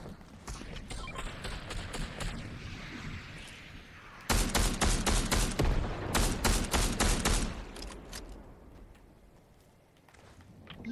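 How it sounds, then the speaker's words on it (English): Video game gunfire crackles in rapid bursts, with a dense, loud volley in the middle and quieter scattered shots before and after, with no talking. "I really want to shoot it"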